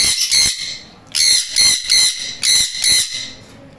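A sun cheek conure gives shrill, harsh squawks in quick bursts, two clusters of repeated piercing calls, loud and close with nothing else heard.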